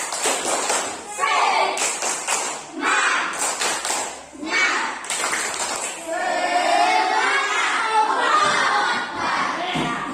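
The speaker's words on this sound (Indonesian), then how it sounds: "Kita tutup pelajaran ini dengan tepuk semangat dulu" A school class does a rhythmic clapping chant, tepuk semangat, with bursts of patterned claps and children's chanting voices rising and falling in a lively, echoing classroom.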